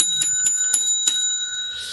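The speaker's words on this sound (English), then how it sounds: "It was a front counter bell being rung in my head somewhere." A front counter bell is rung several times in quick succession, each strike a bright, clear, close ding that rings on briefly.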